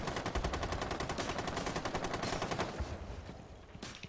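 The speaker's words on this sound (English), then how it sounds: "Why is someone shooting at things on the floor?" Rapid automatic gunfire in Rainbow Six Siege rattles off in long, dense bursts, with a brief pause near the end before a few more shots. The shots are close and sharp, and no one speaks over them.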